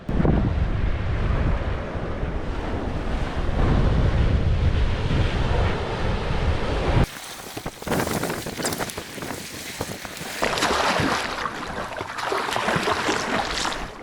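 Strong wind buffets a camera on a rocky coastline, loud rumbling gusts over crashing surf, with a brief dip partway through before the roaring, blustery noise returns.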